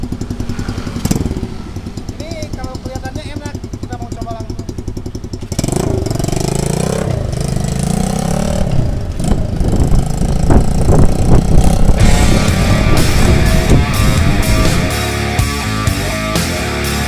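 Running engine of a 2020 Mini Trail 125cc K3 manual-clutch motorcycle. It idles loudly at first, then revs and roars harder, with mechanical clatter close by and no one talking.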